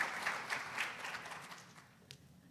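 Audience at a graduation ceremony applauds the graduates, a soft, somewhat distant patter of clapping that fades out over a couple of seconds.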